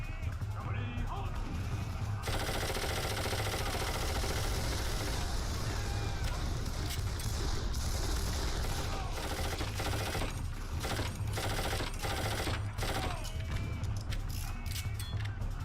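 Steady automatic gunfire from a 40-round weapon in the video game Darkest of Days, a dense continuous clatter of shots with crashes and battle noise throughout, loud and unbroken, with a voice faintly under it.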